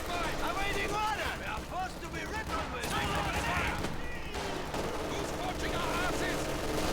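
Dense battle in the strategy game Company of Heroes 2, MG42 machine guns rattling in sustained bursts amid other gunfire and distant explosions, continuous and loud throughout.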